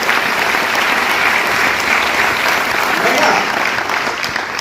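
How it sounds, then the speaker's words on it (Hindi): Loud, continuous applause from a large audience in a hall during a success seminar, a thick, unbroken wash of clapping that stays strong throughout. "वाह, एक जोरदार ताली से लगती है, जोरदार।"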